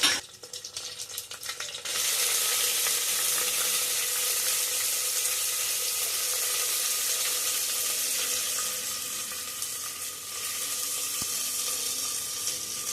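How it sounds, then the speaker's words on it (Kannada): Sprouted horse gram hits hot oil with a sudden loud sizzle that settles into a steady, close frying hiss, swelling slightly as it is stirred, with no talking. "ಇವಾಗ 2-3 ಸರಿ ತೊಳೆದು ಇಟ್ಕೊಂಡಿರೋ ಮೊಳಕೆ ಕಾಳನ್ನ ಹಾಕೋಣ."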